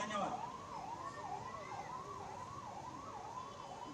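An ambulance siren wails in steady repeated rising and falling cycles at a political roadshow in Khammam, Telangana, fairly distant and moderate beneath a low crowd murmur.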